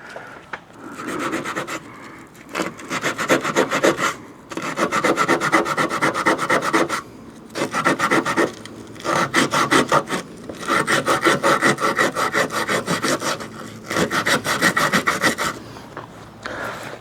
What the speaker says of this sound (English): I'm going to grab my sandpaper again.